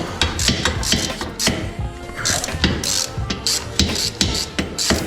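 A ratchet clicks in quick bursts while bolts come off a TVR 2500M sports car, sharp metallic pawl ticks repeating close by with short pauses and light clanks of tools between strokes.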